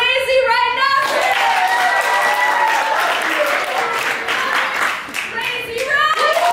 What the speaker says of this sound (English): you're going to clap for how much you want to hear, you want to see this game played